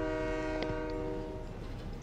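A train horn in the video game Fortnite blares as a steady, loud multi-tone chord that holds the whole moment, with a brief clank partway through and no talking.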